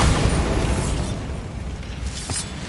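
A Bombarda spell detonating in Hogwarts Legacy, a loud magical explosion that lands as a booming burst and then fades into a long, rumbling decay, with a sharp crackle of debris near the end.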